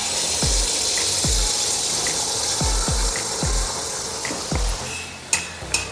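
Pua pitha (malpua) fries in hot oil as oil is ladled over it, giving a steady hiss broken by a regular series of soft knocks and taps up close.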